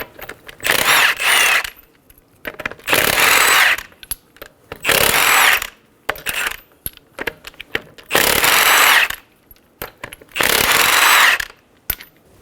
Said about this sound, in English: Using a 21mm socket, remove the lug nuts.